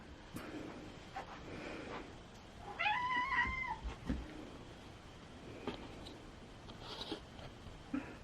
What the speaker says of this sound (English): that meow was Boots